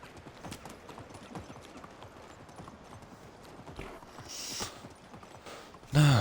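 Horse hooves gallop in a rhythmic clip-clop across a medieval village in the game Medieval Dynasty, steady and close, with a louder burst of rumbling noise at the very end.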